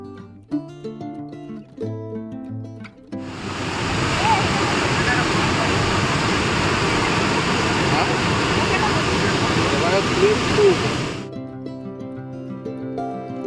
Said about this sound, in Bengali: ভারী বর্ষার কারণে ঝর্ণাগুলোতে এখন প্রচুর জল